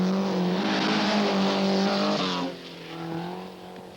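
A rally car is driven hard with left-foot braking, its engine note high and straining, then dropping and rising again through a gear change or lift, all within a few seconds.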